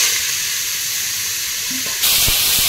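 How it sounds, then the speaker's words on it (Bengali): Potatoes dropped into hot oil with nigella seeds and chilli, a steady close hiss of sizzling that swells louder near the end as frying intensifies, with a few light clinks. "তো সেটা দিয়ে দিলাম তেলের মধ্যে, দিয়ে এবার আলুটা দিই।"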